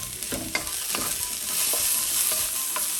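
Broccoli pieces frying over medium heat in a pan, a steady bright sizzle broken by several soft stirring knocks and scrapes, close and without talk.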